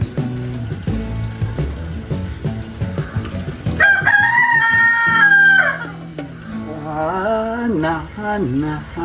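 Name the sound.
chicken clucking and crowing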